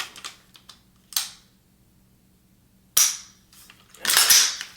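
A Rise Armor Advanced Trigger on a built rifle dry-fired: a few sharp, crisp clicks and snaps, close and fairly loud, with two stronger bursts near the middle and end and quiet gaps between.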